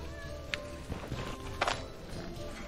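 Cat meowing in the Stoneshard role-playing video game, a couple of short mewing calls over a steady background of game ambience and faint footsteps.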